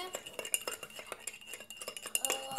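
A spoon stirs vanilla milk in a pot, scraping and clinking against the metal in quick irregular taps, close and fairly quiet, with no one speaking.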